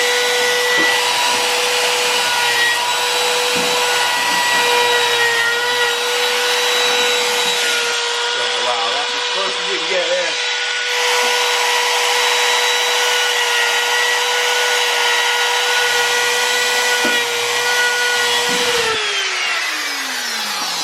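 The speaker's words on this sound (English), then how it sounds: "so now I'm ready to try to route this off" Router trimming ebony on a Carvin bass guitar: a loud, steady high-pitched motor whine with a continuous cutting hiss, running for about twenty seconds, dipping briefly midway and pitching down at the end.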